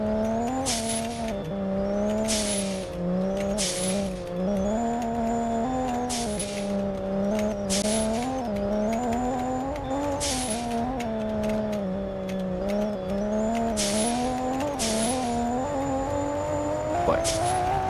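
A tuned Nissan Fairlady Z in a racing video game drives the Nürburgring Nordschleife, its engine droning steadily and rising and falling in pitch with each shift and corner, with bursts of tire noise scattered throughout.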